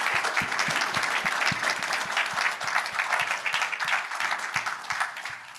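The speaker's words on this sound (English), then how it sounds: "So I want to ask the whole Stacky team to stand up and get a round of applause here" An audience at the JSALT 2024 workshop final presentations applauds the Stacky team, giving steady, dense clapping for several seconds with faint low thumps beneath and no voices over it.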